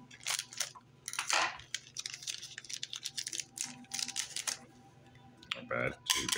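A McFarlane Toys Flash action figure box is cut open, giving close bursts of rustling, crinkling plastic and cardboard scraping in uneven spurts with short pauses between.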